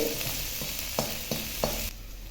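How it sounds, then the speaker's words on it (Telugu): Finely chopped shallots fry in hot oil in a pan, a steady sizzle with a few distinct spoon taps as they are stirred, close and clear, fading out at the end. "ఇప్పుడు ఒక్కసారి అలా అలా కలుపుకోవాలి."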